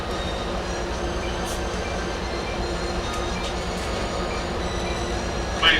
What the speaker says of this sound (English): Metrolink train 608. Orange County Line service to